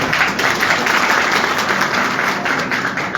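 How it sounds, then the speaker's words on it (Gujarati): A crowd at a Kshatriya Samaj community meeting applauding steadily, dense clapping that holds at an even level throughout. "હજી એક તાળીઓ આપીએ"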